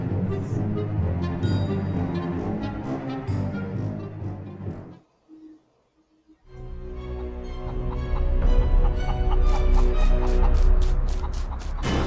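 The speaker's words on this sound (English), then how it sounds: "How did a chicken get up there? They can't fly." In the fantasy game Naheulbeuk's Dungeon Master, a chicken clucks and gobbles over dense game music, briefly exposed during a short lull before the music swells again.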